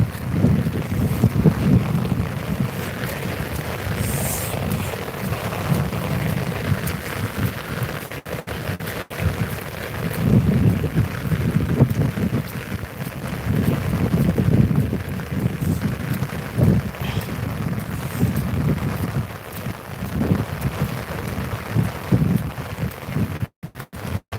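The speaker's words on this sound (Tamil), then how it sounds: "ஃபுல்லாக மழை" Steady heavy rain hisses and patters throughout in Tirunelveli, with gusty wind rumbling against the microphone.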